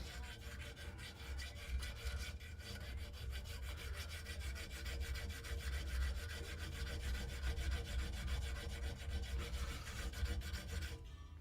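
A dagger blade being hand-filed with a file, a quiet, steady rasping with a fast regular rhythm of strokes that continues without a break.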